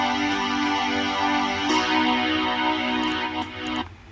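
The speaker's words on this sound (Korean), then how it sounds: "이 킥 소리가 나고 신스 소리가 같이 이렇게 계속해서 나기 때문에" Kick drum thumping steadily under a continuous sustained synth pad in a Cubase mix with no side-chain compression, the synth holding level throughout while the kick punches through, loud and electronic with no speech.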